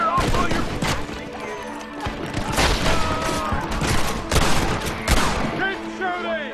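Rapid gunfire rattles through a Red Dead Redemption shootout, with dense overlapping shots, bursts and booms in a steady loud barrage, while voices shout over the fighting.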